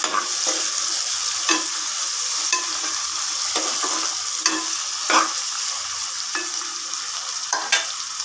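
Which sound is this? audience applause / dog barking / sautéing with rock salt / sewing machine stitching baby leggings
sautéing with rock salt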